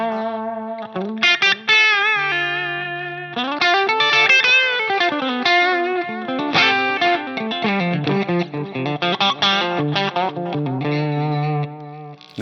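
Electric guitar played through a Line 6 Helix Dr. Z amp model into a 212 Interstate cabinet, a steady run of ringing notes and chords with mild drive and shimmering effects, alone and without talk.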